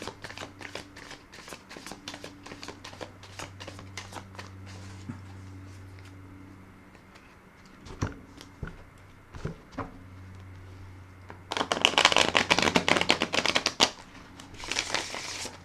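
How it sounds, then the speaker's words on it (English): A deck of tarot cards is handled and shuffled close by, with soft riffling and tapping early on, then a louder, dense burst of riffle shuffling toward the end, over a low steady hum. "I'd like to put another shuffle and raffle on the cards."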